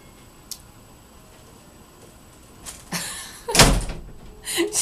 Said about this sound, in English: She just slammed my door.